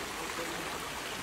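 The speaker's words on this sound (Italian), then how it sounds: "Ma ragazzi, c'è la sorgente, lo si può bere." Fresh water from a spring at the Palenque archaeological zone in the Lacandon jungle flows in a soft, continuous rush, faint and steady with no talking.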